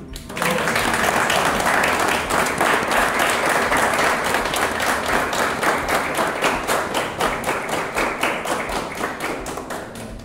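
Audience at a watercolour landscape painting workshop camp in Sinnar, Maharashtra, clapping: loud, dense, close applause that starts abruptly and continues steadily for about ten seconds, with a few faint voices underneath.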